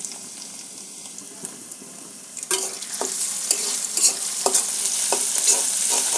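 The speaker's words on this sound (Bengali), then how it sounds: "দিয়ে দেবো রসুন কুচি তেজপাতা ওটা দিয়ে দেবো পেঁয়াজ কুচি" Chopped garlic, bay leaf and chopped onion tipped into hot oil, the sizzle jumping up loudly partway through and then continuing steadily with rhythmic scraping strokes of a spatula, close by.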